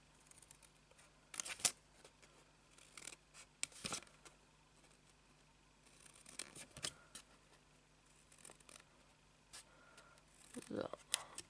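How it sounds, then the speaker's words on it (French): Scissors snipping through folds of paper for an advent calendar craft, a handful of short crisp cuts spaced apart, quiet and close, with a voice speaking in between. "On va couper chaque pli jusqu'au premier pli horizontal."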